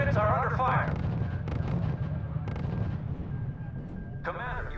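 Booming artillery blasts and bursts of gunfire from the strategy game R.U.S.E. rumble through a battle scene, several heavy detonations spaced across the clip with radio-style voice chatter cutting in at the start and end.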